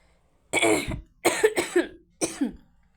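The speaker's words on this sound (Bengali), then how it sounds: "আমার কাশি আসলো আর কি ঠান্ডা লাগছে" Three harsh coughing bursts from a person with a cold ring out close by, the middle one a quick double cough, with quiet pauses between them.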